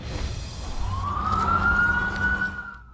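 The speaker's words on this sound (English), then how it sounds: "With sirens still sounding" Police and emergency vehicle sirens wail at a scene on a city street after a shooting, one rising tone sweeping up and holding over rumbling traffic noise, fairly close and loud.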